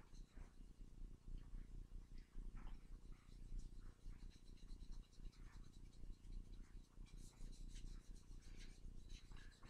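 A stained wooden gun stock is rubbed down with abrasive after raising the grain, giving a faint, continuous rasping scrub in repeated strokes.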